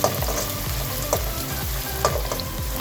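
Onions sautéing in a pan for a chana dal palak, a constant close sizzle with rhythmic scraping strokes of a spoon stirring them every half second or so.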